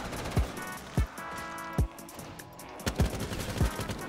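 An M4 rifle fires in Black Ops 3 zombies, a custom map using MW2019 guns, giving about half a dozen sharp, loud, separate shots at an uneven pace.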